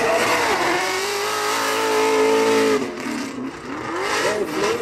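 A Formula Drift Pro2 car engine screams at high revs, holds a sustained wail, then drops briefly and climbs again, loud and close.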